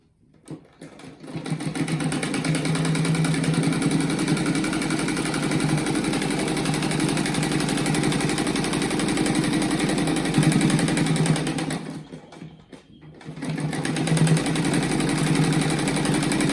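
A sewing machine stitches fabric pieces together into a rug, running steadily and loudly for about eleven seconds, stopping briefly, then starting up again.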